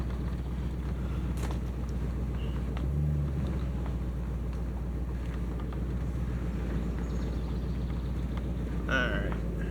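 A truck engine idles steadily, a continuous low rumble with faint rapid ticking running through it, with a brief muffled voice partway through.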